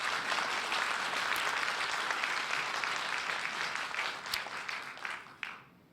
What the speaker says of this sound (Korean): 우리 박수로 하나님께 한번 영광을 드리겠습니다.